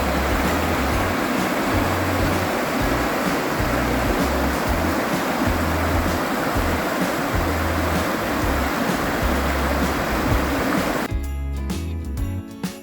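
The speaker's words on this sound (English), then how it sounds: "here we are at the rapids on Hillsborough River" Rapids on the Hillsborough River rushing steadily, a loud continuous broadband roar of churning water heard up close, with a low rumble underneath and a sudden bump near the end.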